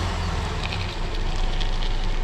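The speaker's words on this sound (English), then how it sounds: "Turn the car on." A black 2009 Cadillac SRX idles with its bumper off during headlight replacement, a steady close-up engine rumble with broadband hiss that runs without a break for a couple of seconds.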